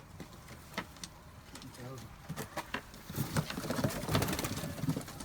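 Tumbler pigeons coo and flutter nearby in a loft, with faint bird calls mixed among low background voices and some rustling, growing busier toward the end.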